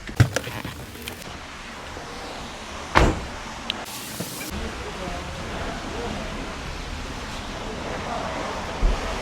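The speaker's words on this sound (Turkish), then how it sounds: "Aracım şu anda camları kapattı. Sunroof'u da kapattı ve kendini tamamen kilitledi." Mercedes W212 power windows and sunroof closing automatically, a motor whir with a few clunks and thuds from the car body, heard close over steady outdoor background noise.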